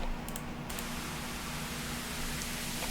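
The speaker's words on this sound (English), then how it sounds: "or white noise riser rather." Hissing white noise riser for a melodic dubstep track, a steady wash of static-like noise with the lows cut out, heard alone with no voices and staying fairly even throughout.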